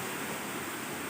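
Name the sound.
rushing waterfall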